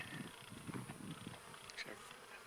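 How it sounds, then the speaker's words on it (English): Bees buzz around close by near a concrete hydrant riser and back step project, a fluttering drone rising and falling as they pass, faint and with no talking. "Bees are all happy."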